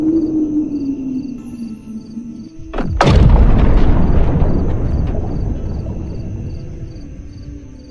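A deep boom in a dramatized horror tale of a dragon's attack bursts in after a low droning hum, then rumbles on loudly and slowly fades over several seconds.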